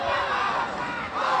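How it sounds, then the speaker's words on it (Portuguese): A crowd of fans at a futmesa (foot-table) match roars continuously, a dense wall of cheering and shouting that stays loud throughout. "Vai fazendo barulho a torcida."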